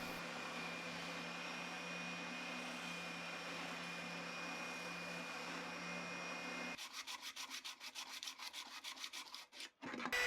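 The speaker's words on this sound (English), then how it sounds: "To sand these cuts, I'm using my oscillating bobbin sander" An oscillating bobbin sander hums steadily as it smooths cut edges on a wooden crate, then gives way to quick rhythmic rubbing strokes up close, with no talking.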